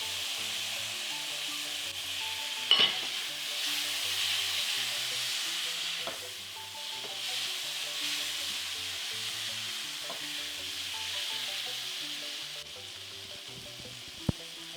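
Tomato paste and diced tomatoes frying with toasted spices for a coconut chicken curry, a steady sizzle with the scrape of stirring throughout, one sharp clack near the start and another near the end.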